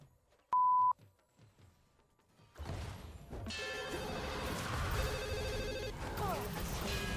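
A Nokia 3310 ringtone is played as a sound effect for the Malphite character in a game. A short, loud electronic beep comes first, then a tonal ringing melody over busy, crashing game noise.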